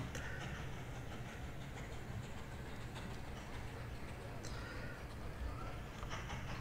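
A train rolls past a signal in the railway-building game Mashinky, a steady, continuous rumble with faint clattering that holds at an even level throughout, with speech mixed in.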